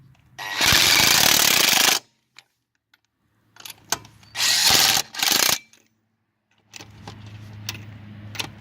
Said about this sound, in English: at least I got my fancy impact gun